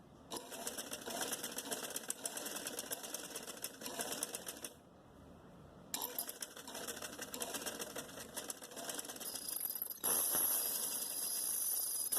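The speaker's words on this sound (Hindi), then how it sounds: "अब सबसे पहले हम यहाँ पे एक सिलाई लगा के इसको हम फिक्स कर देंगे" Close, continuous machine stitching on a trouser hem, the needle chattering rapidly with one short pause before running on again.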